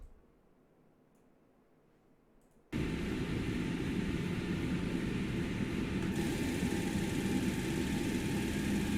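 Boeing 727 jet engine spooling up in a flight simulator game: after a near-silent stretch, a loud broadband roar switches on abruptly and holds steady and close with a faint whine, no talk.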